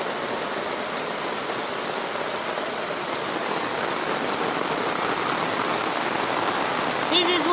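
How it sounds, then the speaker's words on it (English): Heavy rain pours down steadily in a Kenyan village, a dense, unbroken hiss with floodwater pooling beside an outdoor kitchen. "It's really raining."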